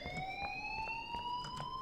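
An alarm rings in the Life Is Strange video game, a steady high electronic tone slowly rising in pitch over faint rhythmic pulsing, moderately quiet.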